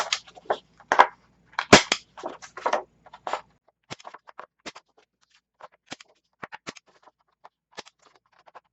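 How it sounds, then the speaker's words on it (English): A handheld corner rounder punch clicks and snaps sharply through paper, a quick cluster of crisp punches followed by scattered lighter clicks and rustles, close and alone. "I'm going to go ahead and take a corner rounder and round all 3 of these papers."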